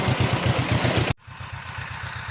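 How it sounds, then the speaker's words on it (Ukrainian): Small tractor engine running while planting potatoes, a steady loud close idle that suddenly drops to a quieter, lower throb partway through, no talk. "Тракторець крутиться, капуста мутиться."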